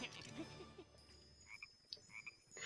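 A frog in the video game Lego Worlds croaks in a few short, faint chirping bursts over a quiet game background, with no talking.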